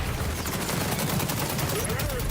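Rapid bursts of automatic gunfire from the XDefiant shooter crackle densely and loudly through the whole moment, with a voice faintly underneath.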